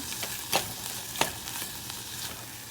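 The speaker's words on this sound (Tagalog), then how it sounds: "lagay na po natin yung ating sugar. At haluin." Sliced onion rings and sugar stirred in a pan, a steady soft sizzle broken by a few sharp scraping strokes of the utensil, close and fairly quiet, no talking.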